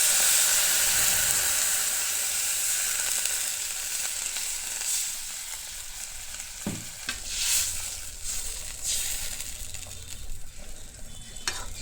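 Fish pieces frying with turmeric and salt as water is poured in, a loud steady sizzle and hiss that gradually settles into quieter bubbling, with a few utensil clinks, close up and without talk.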